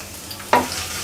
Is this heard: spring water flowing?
no